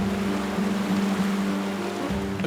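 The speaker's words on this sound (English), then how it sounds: "The capricious Luong River prepares to catch out the crew." Water of the Luong River in Vietnam rushing around a small boat carrying bamboo, a steady broadband wash with a low engine drone underneath.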